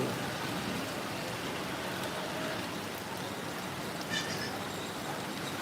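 Heavy rain pours down in a dense, continuous hiss that stays loud and even throughout, with no voices.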